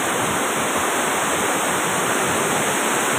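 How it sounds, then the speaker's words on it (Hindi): Water pouring strongly over a weir at a lake, a loud, steady, broadband roar of rushing water heard close up and uninterrupted. "इतना गजब तरीके से पानी जो है वो जा रहा है।"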